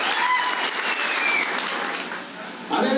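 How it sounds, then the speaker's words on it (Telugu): An audience at a Telangana political rally claps steadily in a dense, loud burst of applause that dips briefly near the end and then swells again. "మీరు మీ చప్పట్లతో ఒకసారి చెప్పాలి."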